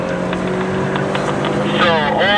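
Race car engines at the Hungaroring circuit in Hungary, a steady close droning hum with a rising whine toward the end, heard with a voice talking over it.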